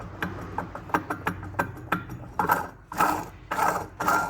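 A worn pump rotor with play, from a Toyota Hilux, being worked by hand on a bench, giving a series of sharp clicking and ratcheting knocks that grow into rougher, longer grinding rattles.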